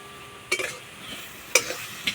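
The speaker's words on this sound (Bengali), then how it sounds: "জল দেবো না, এইভাবে নাড়াচাড়া করে সিদ্ধ করে নেব।" Malabar spinach leaves stirred in a pan without added water, wilting in their own juices: a few distinct scraping stirs with a soft sizzle between them, close and fairly quiet.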